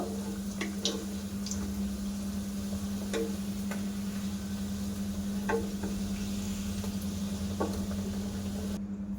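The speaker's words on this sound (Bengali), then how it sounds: "বাদ বাকি নিমকিগুলো আমি এইভাবে ভাজা করে নেব" Nimki frying in oil, a soft steady sizzle under a low hum, punctuated by occasional light ticks and clicks of a utensil, fairly quiet and close.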